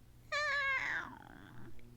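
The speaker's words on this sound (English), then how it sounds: "The cat meowed" A single drawn-out cat meow, close and clear, fading into quiet background noise.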